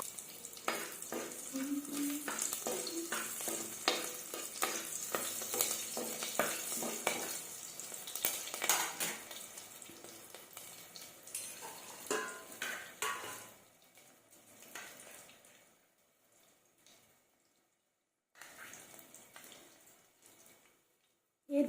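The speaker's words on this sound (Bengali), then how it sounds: "আর দিয়ে দিলাম লং এলাচ দারচিনি এবার একসাথে এগুলো নাড়তে থাকবো" Whole cloves, cardamom and cinnamon with slit green chillies fry in oil for palak paneer, a busy crackling sizzle with stirring clatter that fades to near quiet in the last third.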